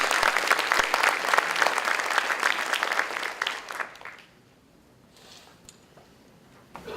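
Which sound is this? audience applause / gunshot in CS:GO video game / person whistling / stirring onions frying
audience applause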